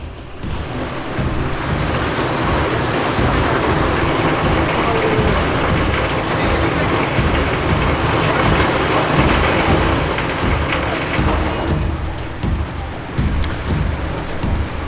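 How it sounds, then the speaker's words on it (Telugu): Heavy rain in Hyderabad, Telangana pours down in a dense, steady roar that fills the whole clip, easing slightly near the end. "హైదరాబాద్లో పలు చోట్ల భారీ వర్షం కురుస్తోంది"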